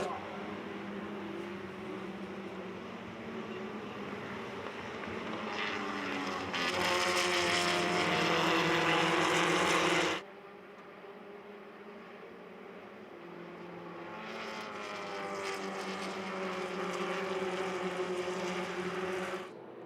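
Vintage race cars roar past on a track at the Monterey Motorsports Reunion in two loud surging waves of engine noise, with a quieter stretch between them and a commentator talking throughout.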